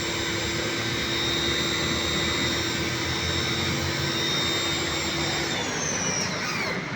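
A 2-horsepower pressure washer runs with a loud, steady motor whine and hiss held constant throughout, close and alone, with a slight shift in tone near the end.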